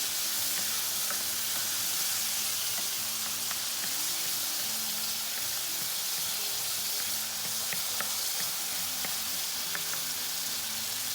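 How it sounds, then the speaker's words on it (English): Tomato and sweet pepper sofrito simmers in a pan with a steady, soft sizzle and faint bubbling crackles, even and continuous with no talking. "let it simmer for about a minute"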